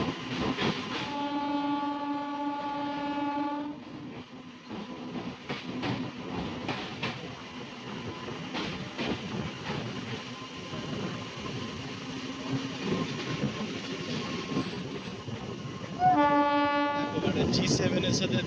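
The Purbottar Sampark Kranti passenger train rolls past with a steady rumble and rail clatter, its horn blaring loudly near the start and again near the end, no talk.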